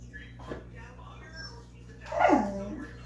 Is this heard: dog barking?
yes